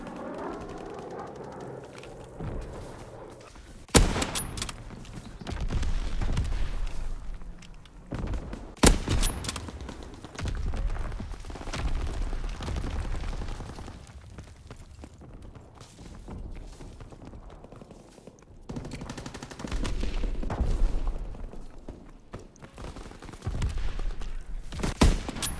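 Sustained gunfire in Call of Duty: WWII while under attack, with sharp loud cracks standing out over a dense, rumbling battle din that surges and fades in waves.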